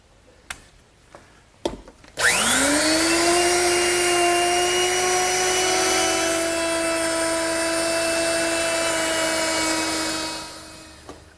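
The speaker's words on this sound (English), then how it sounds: "to round that over, I'll simply use my router, which is set up with a 1/2 inch rounding over bit" Router with a 1/2 inch round-over bit cutting the edge of a wooden garden bench armrest: a few clicks, then a loud high whine spinning up and holding steady for several seconds before winding down.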